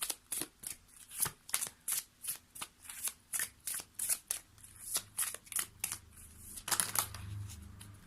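Tarot cards shuffled by hand in a steady run of crisp, riffling bursts, about a dozen quick ruffles at close range with brief pauses between them and no talking.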